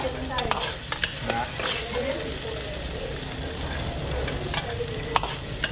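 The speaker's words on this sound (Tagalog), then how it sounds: "Ito ako may gisa na po." Garlic and onion sauté in a frying pan with a steady sizzle and occasional stirring scrapes, while people talk nearby through most of it.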